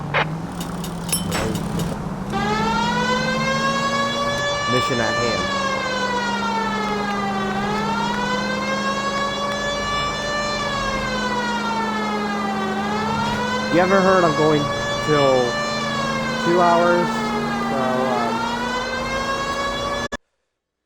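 Ambulance siren in the video game L.A. Noire, a loud wailing tone rising and falling in slow sweeps for about twenty seconds, with faster yelps midway and voices talking over it.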